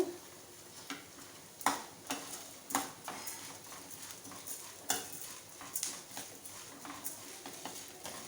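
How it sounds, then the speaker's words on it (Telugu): Flattened rice (poha) being stirred and fried in a pan for a sweet laddu offering, with repeated close scraping strokes of a spoon against the pan in an irregular rhythm over a soft sizzle. "ఆటుకులను కూడా ఇందులో వేసుకొని బాగా కలుపుకోవాలి ఫ్రై అయ్యేంత వరకు"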